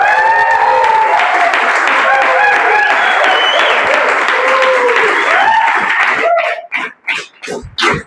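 A seminar audience at a business meeting claps loudly and densely for several seconds, the applause thinning into scattered separate claps toward the end, with some voices mixed in.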